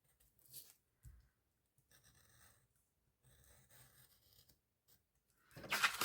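Scissors snip card for a winter card kit in short, quiet, scattered cuts separated by pauses, with a louder rustling scrape of card at the end.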